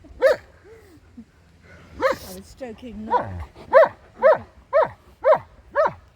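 German shepherd and husky dogs bark close by, first in scattered yelps amid a person talking, then in a steady run of six loud, evenly spaced barks.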